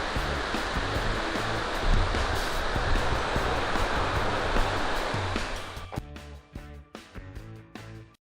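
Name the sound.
Carbon River glacier runoff stream flowing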